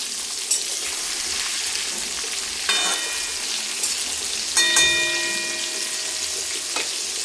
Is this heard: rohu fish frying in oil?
yes